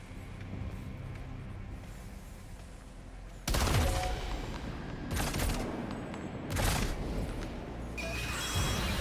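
Gunfire in Death Stranding 2 breaks a quiet hum with a sudden loud volley, followed by several more sharp bursts spaced a second or two apart, close and harsh.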